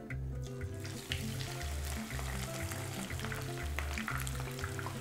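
Jackfruit pieces frying in hot oil make a steady, watery bubbling sizzle at close range, fairly quiet overall, with no talking.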